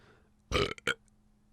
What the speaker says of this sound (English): Got a burp in the mic.